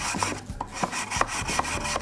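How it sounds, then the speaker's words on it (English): Sandpaper wrapped on a block rubs through the square openings of a homemade wooden dish drying rack, making rhythmic close scratchy strokes about three times per second with no voices. "So with the sandpaper at the edge of the block,"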